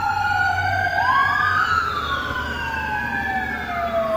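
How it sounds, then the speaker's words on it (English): An ambulance siren drives past, its loud wailing tone sweeping up and down and rising and falling in pitch over a low rumble of road traffic. No one speaks. "there's ambulance driving by."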